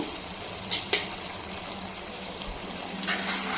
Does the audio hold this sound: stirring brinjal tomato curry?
yes